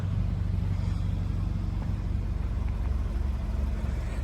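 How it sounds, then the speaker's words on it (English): A Toyota 86 GT Limited fitted with a TRD high response exhaust idles with a steady, deep rumbling drone, close and constant throughout. "It's got the TRD high response exhaust as well, which makes a much nicer noise than the standard exhaust"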